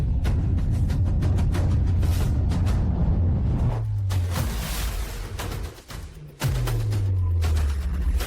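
Rapid bursts of gunfire in a dramatic action scene, dense crackling shots layered with whooshes and low booms, loud and continuous, briefly dropping away before resuming.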